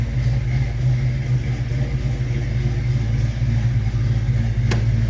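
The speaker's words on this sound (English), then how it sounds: "Truck sounds great." A 1952 Chevrolet 3100 pickup's 350 V8 engine idles with a deep, steady rumble, close and constant throughout, with a brief sharp click near the end.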